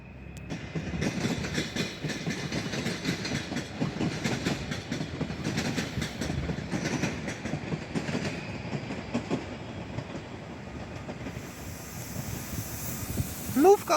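A Gryfin passenger train, Gryfineus 160, rolls into Warszawa Wschodnia station with a continuous rumble and rhythmic wheel clatter, wind buffeting the microphone, and a sharp squeal near the end.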